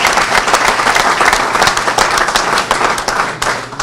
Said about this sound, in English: So, big round of applause for them as well